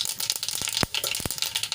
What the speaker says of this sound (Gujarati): તો એમાં આપણે અડધી ચમચી જેટલી રાઈ એડ કરીશું સરસ રીતે ફૂટી ગઈ છે